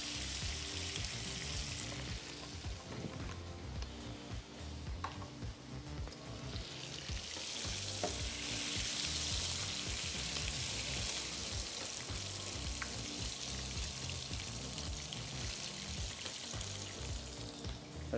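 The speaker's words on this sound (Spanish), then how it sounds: "Agregamos un poquito de aceite para que la mantequilla no se nos queme." Butter with a splash of oil frying in a pan, a steady close sizzle that runs for about eighteen seconds with soft stirring scrapes and no voices.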